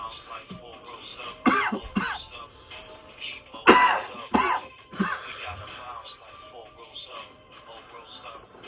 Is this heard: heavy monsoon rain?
no